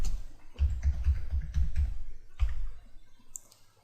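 Keys on a computer keyboard are pressed in a steady run of clicks while a password is typed, each keystroke close and distinct, then the clicks fade into quiet near the end.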